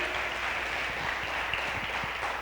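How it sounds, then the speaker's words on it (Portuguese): A church congregation claps in praise during a sermon, a soft, distant wash of applause with faint scattered claps, fairly quiet and even. "Aplauda o Senhor aí."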